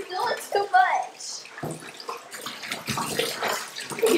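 Water runs into a bathtub while dogs are washed at home, a steady splashing flow beneath close, lively talk throughout.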